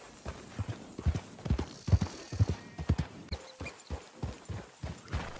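Horse hooves clop at a walking pace in Red Dead Redemption 2, a soft, even run of hoofbeats in a quiet game scene.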